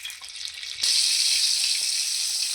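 Onion dropping into hot oil and butter in a pan: a quiet start gives way to a sudden bright, loud sizzle that holds steady and close to the end.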